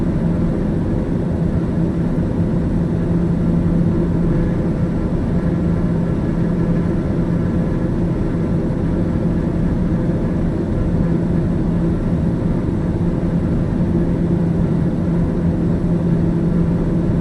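A TBM930 turboprop engine at takeoff power in Microsoft Flight Simulator, heard as a steady, loud, unbroken droning roar with a constant low hum throughout.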